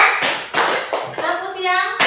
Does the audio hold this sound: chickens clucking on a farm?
no